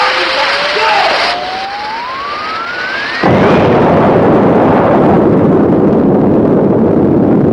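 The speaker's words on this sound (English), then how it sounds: "Looks like there's been some kind of an explosion over in Pelham Woods." A sudden loud blast bursts in the woods after a rising whistling tone, followed by a sustained roaring rumble that carries on to the end, with no talk.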